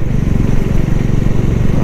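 A motorcycle rides a dangerous mountain road between Rishikesh and Manali, its engine a loud, close, steady rumble with a pulsing low throb.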